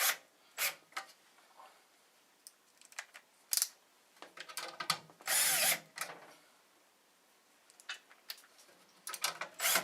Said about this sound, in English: Putting on the bottom plate with these 4 screws.